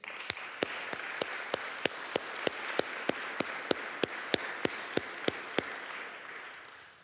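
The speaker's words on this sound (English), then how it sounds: "I'd be glad to give us all just one more round of applause" An audience at a live-streamed ONE Wake gathering applauds, with crowd clapping building into steady, even applause marked by sharp individual claps before fading.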